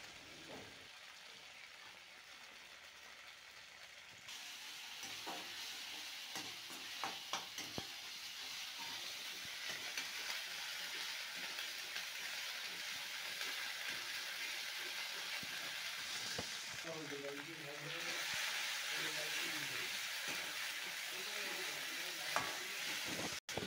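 Ground cumin spice paste with slit green chillies frying in a pan for a rui fish curry, a continuous faint sizzle with occasional scrapes and stirring knocks that grows a little louder midway.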